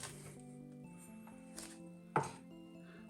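A knife chops smashed garlic on a board in a few sharp, close thuds, spaced unevenly over a quiet background with a faint steady hum.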